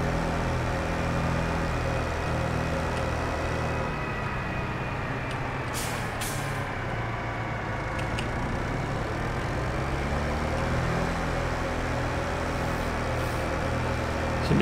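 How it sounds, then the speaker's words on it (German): A 200 PS tractor in Farming Simulator 22 idles steadily, a low, even engine drone with harmonic layers that holds without a break. "Das sind übrigens satte 200 PS hier bei dem Traktor."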